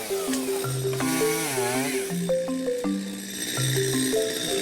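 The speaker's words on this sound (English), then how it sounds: "But you're going to have the advantage of a chainsaw" A chainsaw cuts into wood, its engine pitch stepping up and down through the cut, loud and close with no talk over it.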